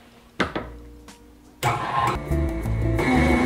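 A kitchen stand mixer kneads brioche dough at speed 4. After a few clunks it starts up, then runs loudly and close as a steady motor whir with a rhythmic, shifting drone.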